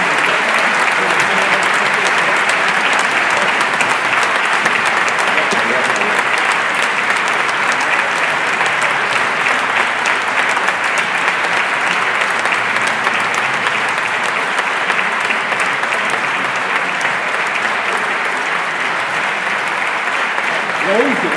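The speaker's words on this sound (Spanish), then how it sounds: "ese aplauso es para Floridablanca" Sustained loud applause from an audience at the end of a book talk about Floridablanca, a dense unbroken roar of clapping that holds steady for around twenty seconds.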